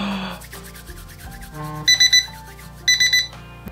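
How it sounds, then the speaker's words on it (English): An egg timer rings in two short metallic bursts during a hot hide glue job in a workshop, amid scraping and rubbing handling noises close by. "you need one egg timer"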